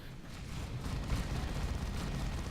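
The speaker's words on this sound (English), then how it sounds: "A volley of grenades." A volley of grenades explodes in a Dawn of War 2 Retribution battle, a dense low rumbling roll of blasts that swells and stays heavy for about two and a half seconds.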